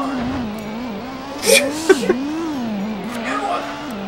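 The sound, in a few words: race car sound in video game Gran Turismo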